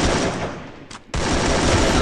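Sustained loud gunfire in the Free Fire Max battle royale game, with a brief pause before the shooting resumes at full force.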